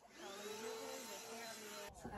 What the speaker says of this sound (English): I'm gonna just vacuum the things